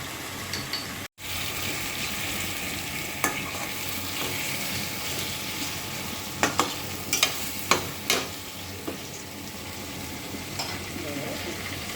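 Sweet pumpkin fries in goat fat while being stirred, with a continuous sizzle under scattered scraping and clinking of the spoon in the pan.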